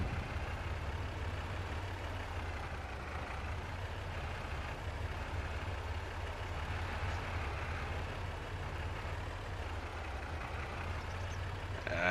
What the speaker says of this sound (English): Poor truck is struggling.